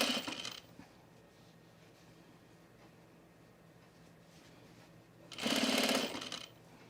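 A sewing machine stitches down a seam on a men's utility jacket, running in two short, close bursts at the start and near the end, with quiet room tone in between.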